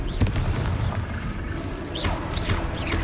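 Confringo fire spell explosions in Hogwarts Legacy, a loud rumbling series of booms and crackling blasts filling the short stretch, with whooshing magical effects on top.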